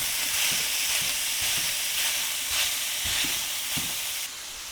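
80/20 ground chuck sizzles in a pan with onions, a steady loud frying hiss with soft scraping stirs as the meat is broken up.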